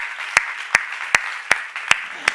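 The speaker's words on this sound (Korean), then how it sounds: "박수" Sharp, evenly spaced hand claps, six in a row at a steady rhythmic beat, close and distinct over a faint background hiss, leading a church seminar audience in applause.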